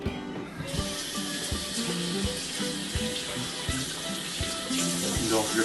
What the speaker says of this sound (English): And don't forget to wash your hands again.